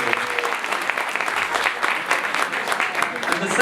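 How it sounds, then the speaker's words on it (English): An audience claps steadily for young performers at a 2017 New Year event. The dense, sustained applause fills the whole stretch at an even level, and a voice speaks faintly beneath it. "please put your hands together for them again"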